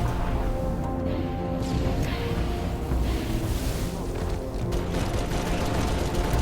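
Dense battle noise in Halo 3: ODST on the Coastal Highway, with continuous explosions and gunfire blending into a loud, rumbling wash of bursts and crashes over the whole stretch.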